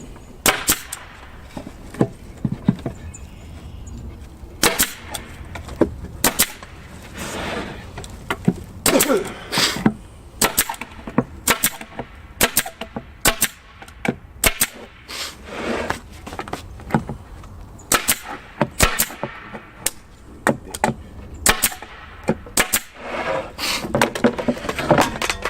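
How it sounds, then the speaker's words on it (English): A nail gun drives nails into a wooden apple box, firing sharp, loud cracks in irregular bursts and quick runs, with faint handling clatter between shots. "boy howdy, does a nail gun make it a lot easier"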